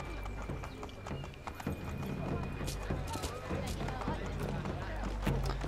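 Horse hooves clip-clopping at a brisk pace in the video game Assassin's Creed 3, steady and close, with a horse whinnying, while someone talks over it.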